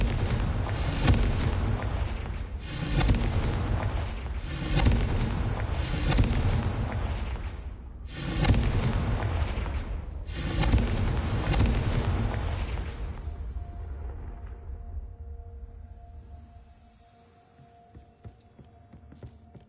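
Confringo blasting spell explosions in Hogwarts Legacy, five heavy booming blasts in a steady rhythm, each with a rumbling tail, loud and close, fading into a quieter hum.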